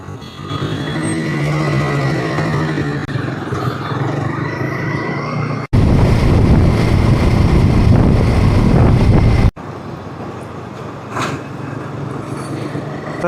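A motorcycle rides along the road on a January trip to Lonavla, its steady engine drone buried under heavy, continuous wind roar that briefly surges louder midway.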